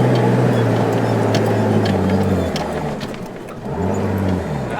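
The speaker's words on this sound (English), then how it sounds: "Sean is having way too much fun driving the patrol around" Nissan Patrol 4WD driving off-road: a steady, loud engine drone heard from inside the vehicle, dipping briefly as the revs change, with rumbling and jolts from the rough ground.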